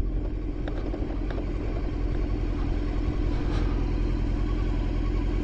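Steady low rumble of a Suzuki Bandit motorbike engine idling while being parked, constant and close with no revving, a few faint clicks over the drone.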